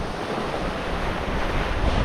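Open-sea waves and wind around a sailing boat on passage to St Helena make a steady, full roar of rushing water and wind buffeting, continuous and fairly loud with no voices.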